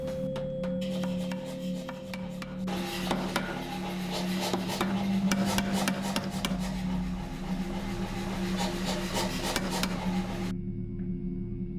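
Shop work sizing a bar of 1045 steel for a forged sword blade: a steady grinding, rasping drone with a constant tone, broken by scraping strokes, then stopping near the end.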